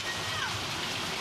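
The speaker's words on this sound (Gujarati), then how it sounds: "વરસાદ શરૂ થઈ ગયો છે ગીર સોમનાથમાં, રસ્તામાં પાણી વહી રહ્યા છે" Monsoon rain falls in Gir Somnath, Gujarat, with water running along the roads, a steady moderate hiss of rain heard briefly and evenly throughout.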